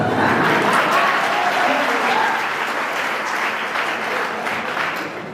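An audience claps at a science entertainment show, a dense, sustained round of applause close by that fades gradually toward the end.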